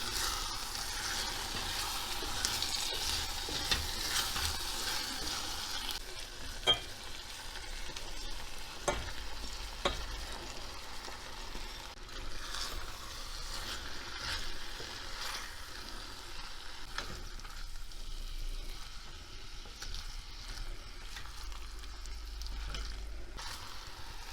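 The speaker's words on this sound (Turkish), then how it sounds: "Şöyle biraz bir karıştırayım." Lentils, chickpeas and bulgur are stirred in a hot pan with other ingredients for a purslane dish, giving soft continuous sizzling with occasional scraping and clinks of the spoon against the pan.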